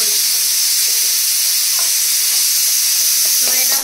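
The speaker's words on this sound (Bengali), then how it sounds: "তো এটা ভাজা ভাজা হোক" Food fries in a pan during home cooking of a mutton meal, a steady loud sizzle with hiss running throughout, with faint occasional clinks from stirring and no talk.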